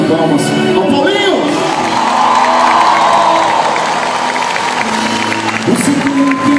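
A concert crowd at a show in Espaço das Americas, São Paulo, cheers and claps in a loud sustained roar, with voices and shouts rising through it.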